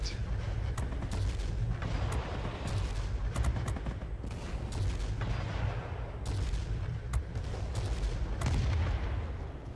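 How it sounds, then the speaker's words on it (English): Heavy aircraft cannon fire from a Soviet Alekseyev I-215 fighter in World of Warplanes pounds away in rapid bursts, deep booming shots stacking over a constant rumble, loud and close throughout. "It's really just a matter of hitting things with these huge cannons"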